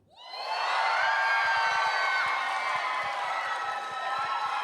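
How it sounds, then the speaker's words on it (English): A live theatre audience at a gaming expo cheers loudly for singer number 1, with a swelling roar of crowd voices, whoops and shouts that rises quickly and holds at full volume with scattered claps. "you're gonna all cheer really loud"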